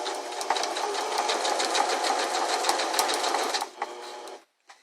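Close-up sewing machine stitching elastic onto fabric, a steady fast mechanical whirring with rapid needle ticks for a few seconds, then slowing and stopping.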